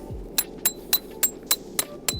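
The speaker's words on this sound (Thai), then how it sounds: "แล้วก็มาตอกจริงๆในอีกฝั่งหนึ่งนะครับ" A tent stake for a Snow Peak Land Nest shelter is hammered into the ground with seven close, sharp metallic strikes about a quarter second apart, each ringing with a bright clink.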